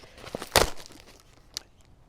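A plastic pack of bare root asparagus being torn open: one sharp rip and crinkle of packaging up close, followed by a faint rustle and a brief second crackle.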